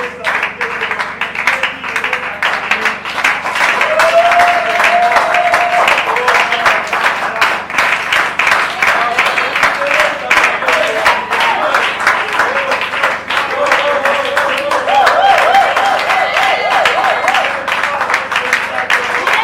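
A church congregation claps and cheers loudly for about twenty seconds, with sustained dense applause and voices singing or calling out over it.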